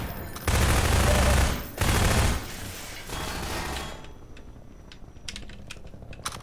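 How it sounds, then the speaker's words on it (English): Rapid automatic gunfire in the video game Half-Life 2, two loud sustained bursts of dense shots close up, then quieter sporadic clicks and faint shots trailing off. "I'm gonna shoot bullets out of my guns real quick like"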